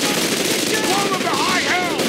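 Sustained machine gun fire in a Company of Heroes: Tales of Valor battle, a loud, continuous rattle of bursts layered with other combat noise and faint radio-like tonal sweeps, with no pauses across the stretch.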